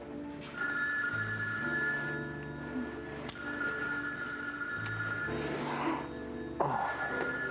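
A telephone rings in a quiet indoor room, two long repeated ring bursts with a pause between them, fairly clear and close, with no talking over it.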